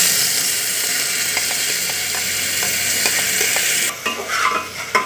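Onion, ginger and garlic paste being stirred in a hot pan: a loud, steady sizzle with repeated scraping strokes, then a few sharper clattering knocks near the end.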